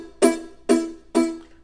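A chord is strummed three times in a row on a Loog guitar that is not fretted firmly enough, each strum sounding thin and dying away quickly.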